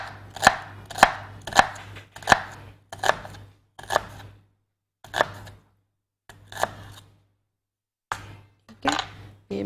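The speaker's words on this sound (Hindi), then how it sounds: "यहाँ प्याज है मेरे पास, तो इसको भी मैं स्लाइस कर लेती हूँ" An onion is sliced with a knife on a board in a clear, close series of crisp chopping strokes, about a dozen evenly spaced cuts with a brief pause midway, with no talking.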